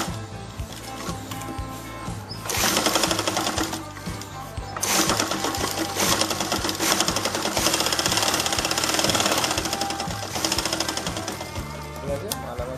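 A sewing machine stitches the neckline of a designer blouse in bursts of rapid, rhythmic needle chatter, stopping briefly between runs, close and fairly loud.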